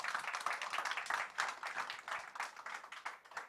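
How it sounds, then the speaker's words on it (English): Applause from an audience at a Castle Lager media launch event, steady dense clapping at moderate level throughout with no talk over it. "Let's clap for them, guys."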